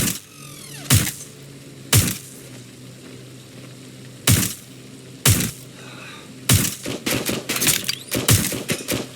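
Gunfire in the video game Watch Dogs: Legion: a string of loud, sharp shots and short bursts, spaced at first and then coming in quicker clusters over a steady background rumble.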